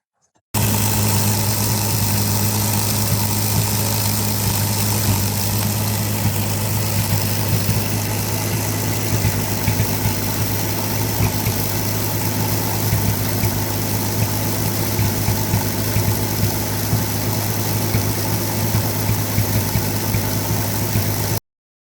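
A 1949 Ford Flathead engine fitted with Holley EFI idles steadily and loudly up close, a continuous low rumble with a constant, even drone running unbroken throughout.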